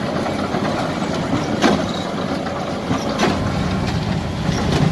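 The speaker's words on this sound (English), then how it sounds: "he's doing what it takes to get this big baler to go" A JCB tractor engine works hard pulling a Case 8585 big baler in a baling competition, with a steady, loud mechanical roar and a few brief clanks over it throughout.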